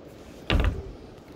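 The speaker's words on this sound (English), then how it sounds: "Sorry, having trouble getting this door locked." A screened porch door being locked gives one short knock and rattle of the latch, close and brief, with quiet room tone around it.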